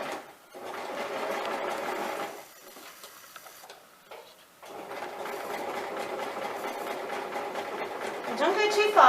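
A sewing machine stitches a quarter-inch seam over pins with a fast, steady mechanical whirr. It pauses briefly midway, then restarts and runs on. Someone speaks over the sewing.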